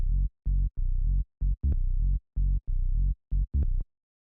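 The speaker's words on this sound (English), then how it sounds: "So without the sidechain, this is what the bass line sounds like." A tech house synth bass line without sidechain plays alone, a loud, steady run of buzzy low notes, some held and some clipped short, in a syncopated repeating groove with a few brighter plucked accents.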